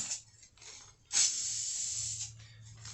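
Aerosol spray paint being applied to the front trim of a 1995 Ford F150 with a 4.9L engine, heard as quiet, close bursts of hissing spray, including one longer sustained pass, between short pauses.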